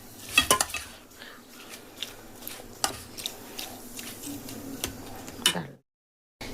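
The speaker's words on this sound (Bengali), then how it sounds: "দেবো একটুখানি গোলমরিচ দিয়ে খুব ভালো করে এখন আমি মিশিয়ে নেব" Sliced onions are tossed with salt and pepper in a bowl for raita, giving close, irregular clinks and scrapes of a spoon against the bowl that stop abruptly into silence.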